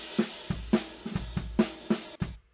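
A drum kit comes through summed room microphones in a shoegaze mix, with roomy kick and snare hits in a steady groove, washy cymbal sound behind them, ending abruptly.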